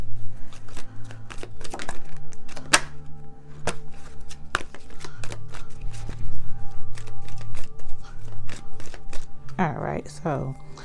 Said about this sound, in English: I'm gonna get about a good three or four shuffles for each deck.